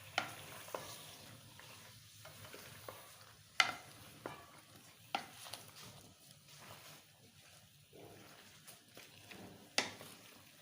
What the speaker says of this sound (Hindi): अभी इनको कर लेते हैं मिक्स अच्छी तरह।